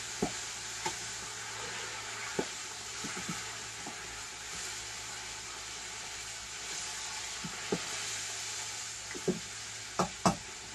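Chicken frying in hot oil in a home kitchen, a steady low sizzle with a few small sharp pops scattered through it, close and fairly quiet, no voices.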